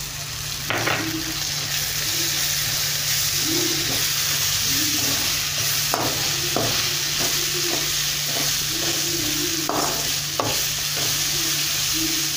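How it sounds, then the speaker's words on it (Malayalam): Crushed ginger frying in oil for a beef curry, a loud continuous sizzle with intermittent sharp clinks and scrapes of a stirring utensil, no talking. "ഇനി നമുക്ക് ചതച്ച് വെച്ചിരിക്കുന്ന ഇഞ്ചി ഇട്ട് കൊടുക്കാം."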